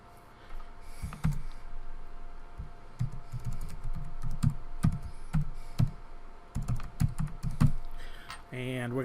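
Password being typed on a computer keyboard: a close, fairly steady run of small clicking keystrokes in irregular bursts, ending in a brief different clatter.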